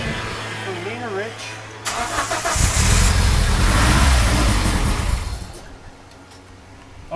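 After valve replacement, a 420a performance engine cranks with a labored starter whine, then fires and roars loudly up close before easing back toward a rough idle.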